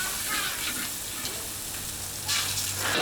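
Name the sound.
salt fish frying in hot wok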